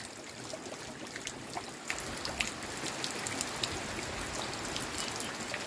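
Steady heavy rain pours down during a typhoon, a dense hiss with scattered drips and patters close by, continuous and fairly loud throughout with no talking.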